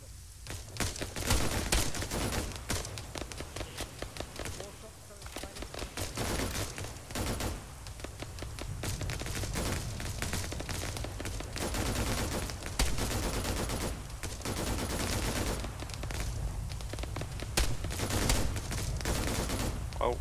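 Sustained gunfire from an ArmA 3 combined-arms operation rattles in rapid bursts for the whole stretch, moderately distant and fairly steady, with almost no voices present.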